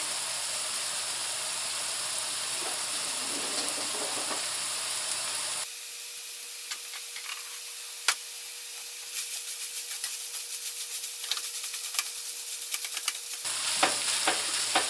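Beef burger mixture frying in a pan, a steady broadband sizzle and stir with a loud hiss that changes tone partway through, scattered crackles and pops, no voices.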